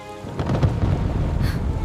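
A thunderstorm rumbles with deep rolling thunder over a steady wash of heavy rain, loud and continuous, with no voices.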